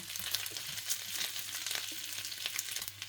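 Bacon and beaten egg for an omelette frying in a pan, a close, continuous crackling sizzle with scattered pops throughout.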